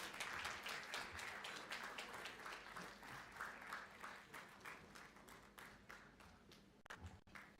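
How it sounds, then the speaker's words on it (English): A warm round of applause from the audience at a Day of the Seafarer ceremony: steady, dense clapping from a seated crowd, fairly faint and distant, sustained for several seconds without talk. "May we express our gratitude with a warm round of applause."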